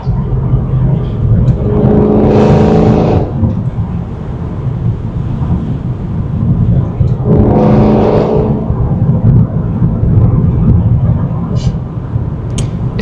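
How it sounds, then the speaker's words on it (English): Steady loud engine and road drone from inside a BMW M3 with an aftermarket exhaust and back box, with two rising exhaust surges as it accelerates, and a voice briefly under the noise. "It's so nice how this exhaust setup paired with the back box."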